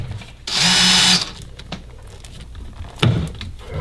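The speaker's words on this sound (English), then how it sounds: "I'm gonna take my drill, put them in a little bit, not necessarily all the way." A power drill driving screws into a boat's reversible pilot seat whirs loudly for about half a second, then stops; a few knocks and handling clatters follow.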